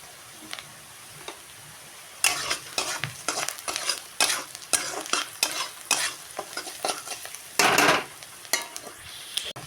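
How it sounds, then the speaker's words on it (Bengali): Onions seasoned with turmeric and chili powder frying in a pan while a spoon stirs them, with irregular scraping and tapping strokes over a faint sizzle, close and alone. "হালকা করে ভেজে নিয়েছি পেঁয়াজটা"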